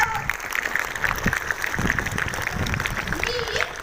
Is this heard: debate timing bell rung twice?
no